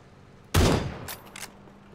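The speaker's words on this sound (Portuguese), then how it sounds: "Vou dar um tiro." A single loud gunshot in the battle royale game PUBG: Battlegrounds, a sharp close blast with a short decaying tail and a couple of faint clicks after.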